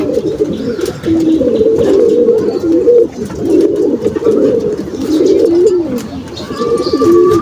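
Household pigeons, including young squabs, coo loudly and almost continuously up close in overlapping rolling phrases, with brief chirps and a faint whistle-like tone near the end.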